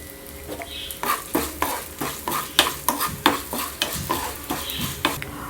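Spices roasting in a pan for a Mangalore-style mango menaskai are stirred with a spoon, giving a steady run of rhythmic scraping strokes roughly every half second over a soft sizzle, close and clear with no talking.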